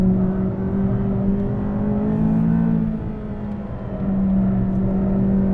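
McLaren 570S engine droning steadily through a track lap, loud and continuous with a sustained pitch that dips briefly mid-lap before climbing again.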